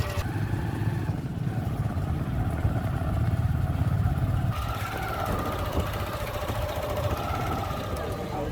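Motorbikes carry a group along a road back to a church in Kenya, their small engines droning steadily close by with a shift in pitch partway through, mixed with road and wind noise.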